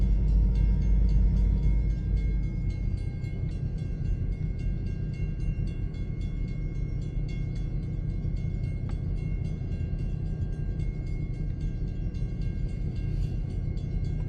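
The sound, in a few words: ELS 501 SD40-2 locomotive hauling log train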